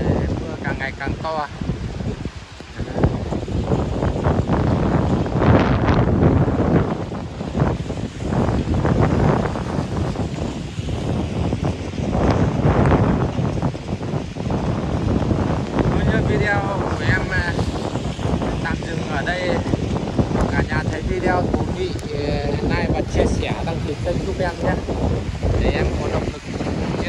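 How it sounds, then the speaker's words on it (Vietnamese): Strong typhoon wind gusting in Taiwan during the landfall of Typhoon Kong-Rey with heavy rain, loud and continuous buffeting across the microphone, with a person talking underneath the roar throughout. "Đang đứng ở gió mạnh quá cả nhà."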